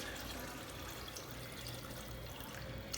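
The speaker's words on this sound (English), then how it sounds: "I wanna cover my beans with about 1 inch of liquid." Smoked turkey broth pours steadily from a container over beans in a pot, a continuous quiet liquid rush with no break.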